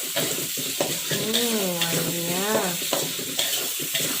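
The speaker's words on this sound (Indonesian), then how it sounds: "Kita tumis sampai dia betul-betul wangi." Spice paste for chicken rendang sautéing in a pan, a steady close sizzle with repeated stirring scrapes, and a brief voice speaking over it.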